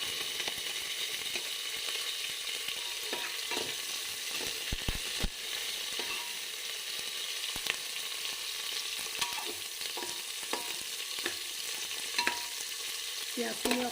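Sliced onions frying in hot oil with panch phoron in a pressure cooker, a continuous close sizzle with occasional stirring scrapes and clicks.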